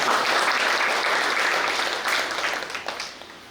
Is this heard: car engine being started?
no